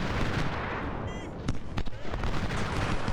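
Massed troops firing volleys in the Civil War strategy game Ultimate General at Gaines Mill, a dense continuous rumble of musket and artillery fire with a few sharper cracks standing out, loud and close.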